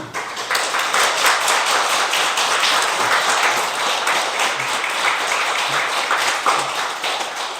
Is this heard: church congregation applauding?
yes